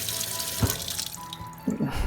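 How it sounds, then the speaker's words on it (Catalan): Water pours steadily into a bottle, a continuous splashing rush with a couple of louder gurgling surges as it fills. "perquè una ampolla pugui omplir-se d'aigua"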